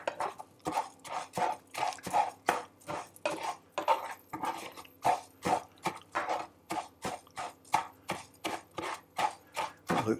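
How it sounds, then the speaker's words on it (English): Utensil scraping and clinking rhythmically in a pan as rice is stirred to coat it in oil for Spanish paella, about twenty regular strokes, close and fairly quiet with no talk. "all you're trying to do here is give a coating of oil onto the rice"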